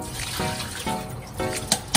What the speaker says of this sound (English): After thinly chopping myoga, place it in water, then quickly rinse it before serving.